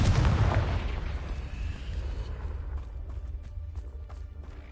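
Confringo blasting spell in Hogwarts Legacy: a loud, booming explosion bursts at once and then rumbles and fades over several seconds, with faint crackling debris afterward.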